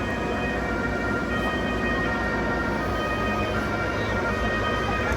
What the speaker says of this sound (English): Please let that ambulance pass.